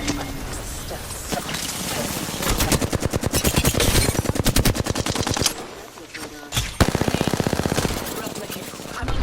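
Rapid automatic gunfire in Apex Legends rattles off in long, fast bursts, with brief pauses between volleys. The shots sound loud and close, with game voices underneath.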